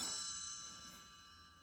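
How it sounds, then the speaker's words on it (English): A single bright chime rings once on a children's book on tape as the page-turn signal, then fades away quietly with no talking over it. "You will know it is time to turn the page when you hear the chimes ring like this."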